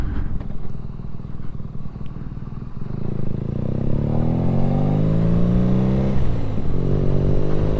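BMW R nineT motorcycle's boxer engine running loud and close, a steady rumble that rises in pitch as it revs and accelerates, with no voices.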